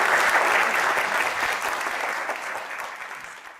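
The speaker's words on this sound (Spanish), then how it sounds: "un aplauso para los compañeros y para todos" Sustained audience applause fills an academic writers' panel at a university lecture event, dense and steady before slowly thinning and fading near the end.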